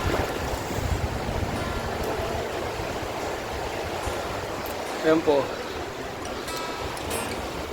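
Mountain stream water flows steadily beneath a bridge, a continuous broad rushing wash; a person speaks briefly over it.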